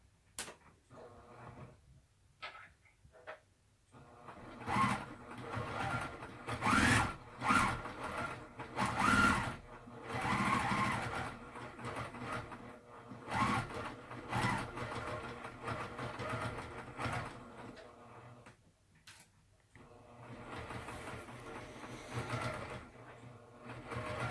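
Sewing machine stitching fabric oven mitts, running in steady whirring bursts with short stops and restarts, the needle's fast rhythmic clatter close and clear, no talking.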